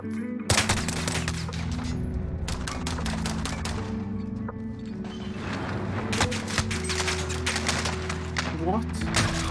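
Pistol fire in a Modern Warfare Gunfight match: rapid clusters of sharp, loud shots with short gaps between volleys, alongside someone talking.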